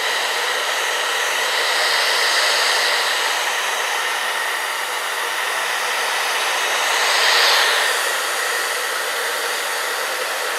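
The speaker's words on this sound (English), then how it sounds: "I am just drying her hair on cool with the dryer" A hair dryer on its cool setting blowing on hair, a steady close whooshing hiss that swells slightly twice as it moves, with no talking.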